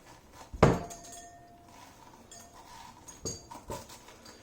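A metal pumpkin-carving scooper clanks and scrapes inside a pumpkin, with one loud close knock followed by a few lighter clinks and scrapes and no talking.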